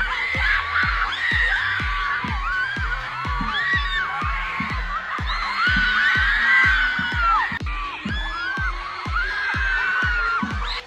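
Peruvian fans of Louis Tomlinson scream and shriek loudly as a crowd outside the hotel where he greets them from his balcony, a dense continuous roar of high-pitched voices over a steady rhythmic thumping beat.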